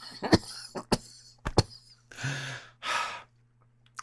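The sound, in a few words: cough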